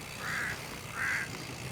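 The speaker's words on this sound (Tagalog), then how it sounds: "Dami palang uwak dito." Crows along a bike trail give two harsh, raspy caws about half a second apart, moderately close and clear over faint outdoor background noise.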